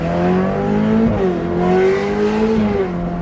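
A Ferrari F8 Tributo tuned to 850 horsepower revs with its gearbox in sport mode, a loud, steady engine drone that rises and dips in pitch across a few seconds, close and alone without talk.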